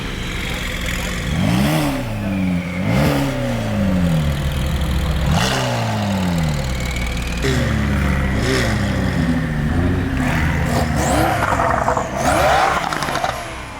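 Sports cars including a Porsche Turbo and a McLaren 765 LT leave a cars-and-coffee meet, engines revving in repeated rising sweeps as they accelerate past, loud and near, with a crowd talking and shouting underneath.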